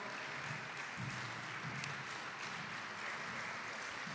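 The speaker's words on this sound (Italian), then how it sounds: "Vorrei chiedere un applauso particolare per il sindaco Mismetti" Faint, steady audience applause for the mayor at the opening of a science and philosophy festival, a distant wash of hand claps that holds evenly throughout without voices.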